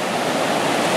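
A rushing creek, knee deep in places, roars in a loud, steady broadband wash of fast-moving water, close by and uninterrupted.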